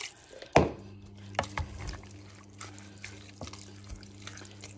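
Water, about 900 millilitres, is poured into a pot for creamy spinach soup: a sudden close splash, then a lighter trickle and scattered drips over a low steady hum.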